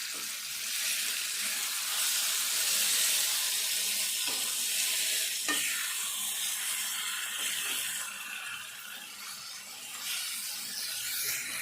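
Chicken being stirred into softened tomato in a cooking pot, giving a continuous wet hiss with a couple of soft knocks from the spoon and no talking.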